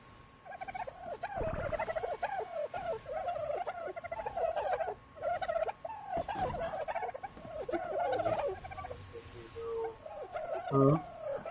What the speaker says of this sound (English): Trying to kill this bird.